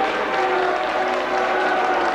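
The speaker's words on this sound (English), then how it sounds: "The Prime Minister and Mrs. Wilson arrive in the hall at Highton to a mixture of boos from Conservative and applause from Labour." A mixture of boos and applause fills a 1970 British general election count hall as the Prime Minister arrives, a steady dense crowd noise lasting throughout.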